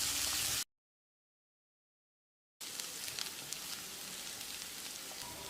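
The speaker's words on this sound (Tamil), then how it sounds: "வெங்காயத்தை நல்லா பொன்னிறமாக வதக்கிடலாம்." Chopped onions frying in a pan until golden, a steady close crackling sizzle cut off briefly by a gap of silence before resuming.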